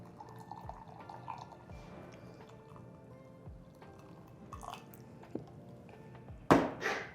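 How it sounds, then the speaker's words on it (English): Half a cup of water trickles and drips into a measuring cup in a quiet kitchen, with soft intermittent splashes and a louder splash near the end. "we're going to be measuring out a half a cup of water"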